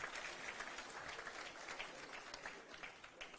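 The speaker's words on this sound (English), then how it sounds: "A hand of applause." Faint applause from an audience at a signing ceremony at KICC in Nairobi, a steady patter of clapping that stays quiet and distant throughout.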